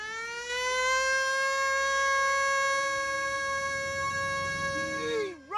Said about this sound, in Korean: 마을에 도착하자 사이렌이 울리고